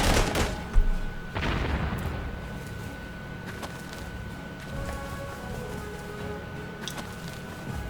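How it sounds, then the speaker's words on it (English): Artillery bombardment in the wartime strategy game Panzer Corps 2: a couple of heavy booming impacts early on, then a sustained low rumble with faint scattered reports over a steady tonal hum. "Something just bombarded my Su-6 and encircled my whole army."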